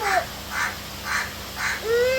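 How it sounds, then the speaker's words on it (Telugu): Several crow caws in a steady run, about four evenly spaced calls over a few seconds, heard in the rain at a home in Kakinada with no talk over them. "కాకి ఏమంటుంది కావంటుందంట"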